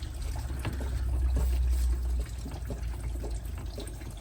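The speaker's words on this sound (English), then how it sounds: "I've already got the coolant draining" Coolant drains from the engine of a 1996 Ford F350 with a 7.3 diesel during a water pump replacement, a continuous close liquid trickle and splash with low rumbling underneath.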